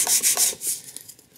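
Fine sandpaper on a shooting board rubbing across the end grain of a small piece of wood veneer, a few quick close strokes of bright hissing friction followed by lighter scratchy passes, with no talking.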